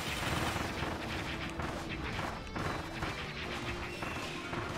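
Gun Kirby firing in Kirby and the Forgotten Land, a dense run of loud, crashing shots mixed with game effects and music, continuous throughout with no pauses.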